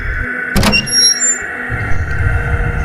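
A room door opens slowly with a brief creak and scrape, followed by a low rumbling drone, close by in a quiet interior.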